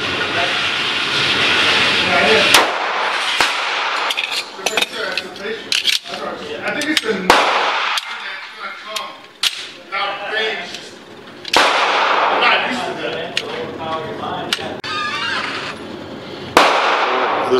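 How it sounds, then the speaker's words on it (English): A 1911 Commander pistol in .45 ACP being test fired, with several sharp, loud gunshot cracks spaced seconds apart over constant broadband noise and occasional voices. "We're gonna continue shooting here."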